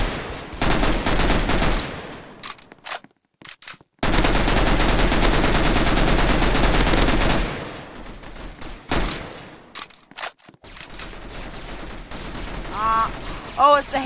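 Rapid automatic gunfire in a first-person video game, long dense bursts broken by short gaps, loud and close, with a few brief tonal game effects near the end.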